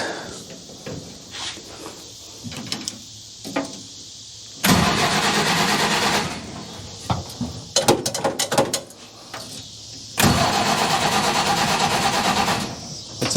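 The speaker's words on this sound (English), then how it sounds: "So let's see if she'll fire up and see how it sounds" A small engine cranks and catches after carburetor work, with a run of loud bursts of churning cranking and firing broken by pauses, and a quieter rattly idle between attempts.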